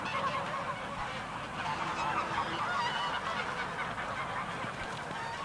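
A flock of geese on a goose-breeding farm honking continuously, loud, dense overlapping calls close by with no talk.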